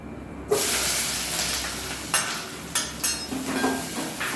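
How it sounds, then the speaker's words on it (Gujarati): Onions hit a hot cumin tempering in oil for a sev-onion curry, bursting into a loud sizzling hiss that then settles into steady frying, with a few scattered clanks of a spoon against the pan. "વઘાર આવી ગયો છે એમાં ડુંગળી એડ કરી દઈશું"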